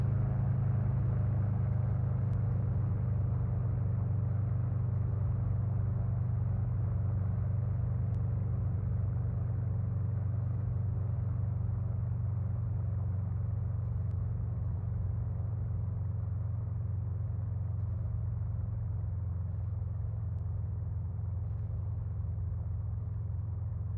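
Steady, loud engine drone of a P-26 Peashooter plane accelerating in the IL-2 1946 flight game, a continuous low rumble holding unbroken throughout with no talk.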